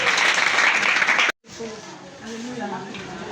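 A church congregation applauds Jesus with dense, loud clapping that cuts off abruptly, followed by quieter murmuring voices in the hall.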